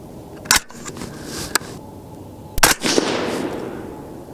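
Suppressed 22 ARC rifle firing Hornady 80g ELD-X bullets outdoors: two sharp, loud muffled shots a couple of seconds apart, each followed by a brief rolling echo, with a few small mechanical clicks between them.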